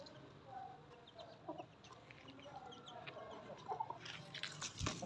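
A hen clucks softly in short, scattered bursts at close range, with faint rustling and a sharper knock near the end.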